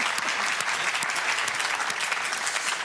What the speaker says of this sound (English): Round of applause for Andrea and Scott.